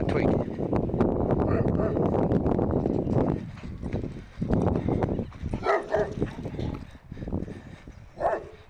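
A neighbour's dog barks in bursts on a walk to a post office in Kingscote, heard partly over a person talking, with gaps and trailing yaps.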